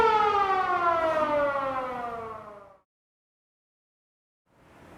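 The siren stop of a 1924 Wurlitzer theatre organ at the City Museum in St. Louis gives a loud, sustained wail that slowly slides downward, then cuts off abruptly into silence before a faint noise returns.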